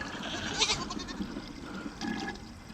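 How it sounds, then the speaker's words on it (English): Young Boer billy goats, baby bucklings on a farm, bleat in short, faint calls from a little distance amid outdoor background noise. "Here's the little billy goats."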